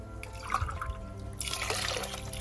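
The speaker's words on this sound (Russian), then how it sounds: "И сразу тоже выливаем сюда воду" Water poured from a container into a cooking pot of rinsed lentils for Turkish lentil soup, a steady liquid trickle and splash that grows fuller and louder partway through, close and without talk.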